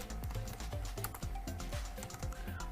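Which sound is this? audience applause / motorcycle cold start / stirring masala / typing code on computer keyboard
typing code on computer keyboard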